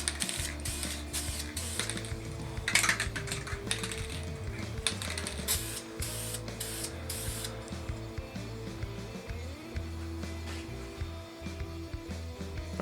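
Clear coat hisses in short, sparing spray bursts onto a custom Xbox One console, mixed with small clicks and mechanical rattles nearby and a low steady hum underneath. Nobody speaks.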